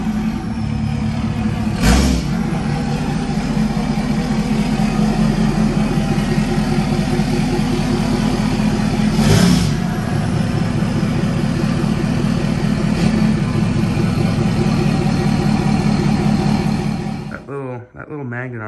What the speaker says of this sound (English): let me get the car out of the garage, move some cars around in the driveway, and get the truck pulled inside.